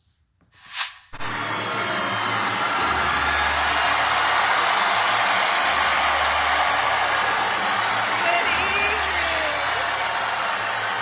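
A large crowd at a Kamala Harris political rally in Atlanta roars and cheers in a loud, sustained wall of sound, following a brief sound at the very start.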